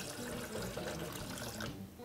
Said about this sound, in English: So I'm just going to grab some water.